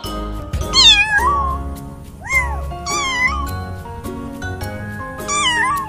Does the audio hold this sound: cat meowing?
yes